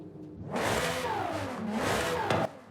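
A racing V12 engine in a Lamborghini Aventador J in Forza Horizon 5 revs up with a rising, aggressive roar, drops briefly, then climbs again before cutting off abruptly; loud and close.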